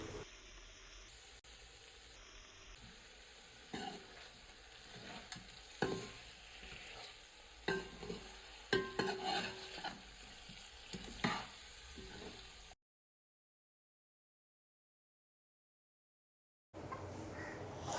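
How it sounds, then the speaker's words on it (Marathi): Bombil fish and potato curry stirred together in a pot after salt is added; close scraping spoon strokes over a soft sizzle, dropping to silence for several seconds before resuming briefly. "त्यामध्ये चवीनुसार मीठ टाकून घेऊया आणि सर्व मिश्रण एकत्र करून घेऊया"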